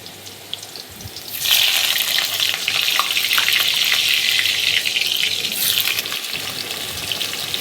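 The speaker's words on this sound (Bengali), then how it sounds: "কড়াইতে কিছুটা পরিমাণ সরষের তেল গরম বসিয়ে দিয়েছি। এর মধ্যে আলুগুলো ভেজে নিচ্ছি।" Diced potatoes frying in hot mustard oil in a wok give a loud, steady sizzle that swells in suddenly and holds for several seconds, with no voices present.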